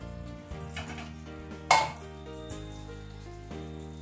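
A lid is set onto a pot of simmering cauliflower vegetable curry with a single sharp metallic clank, amid a low kitchen hum and faint sizzling.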